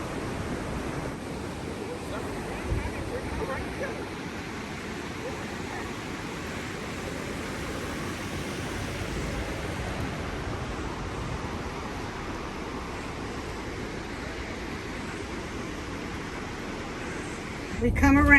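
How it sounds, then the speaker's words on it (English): Water rushing underneath a building on the Oregon coast, a continuous broad roar like surf with wind noise, steady and fairly loud throughout, ending with a brief louder burst. "You can hear the water rushing underneath."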